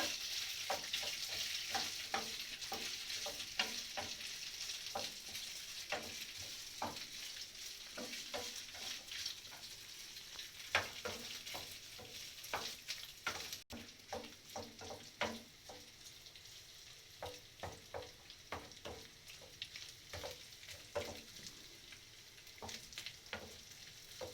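Kumpir ingredients are stirred together in a frying pan, a continuous close sizzle broken by a long run of rhythmic spoon scrapes and clicks, with no talking.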